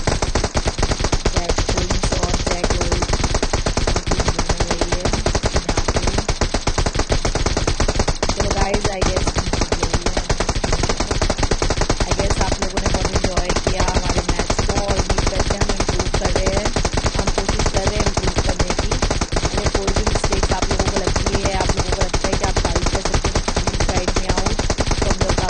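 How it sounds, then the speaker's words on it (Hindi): Gunfire in PUBG Mobile runs as a dense, unbroken barrage that stays loud and saturated for the whole stretch, with no pauses between the shots. "वो फायरिंग की आवाज़ इतनी ज़्यादा थी ना कि मैं बंद भी नहीं कर सकती थी"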